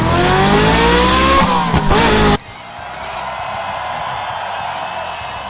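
Hot Wheels diecast toy cars race down a track while a loud engine-style racing sound roars with shifting pitch, then cuts off abruptly into a quieter rushing hiss.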